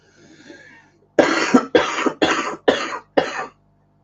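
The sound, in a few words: man coughing with a cold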